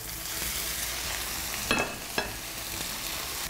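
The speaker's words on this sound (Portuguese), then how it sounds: "Vai colocando os bifes na panela aquecida." Beef steaks frying in a heated pan, a steady close sizzle with two brief sharper crackles in the middle and no talking.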